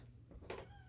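A pet cat gives a single short meow at middle distance in a quiet room, brief and fairly faint over low background hum.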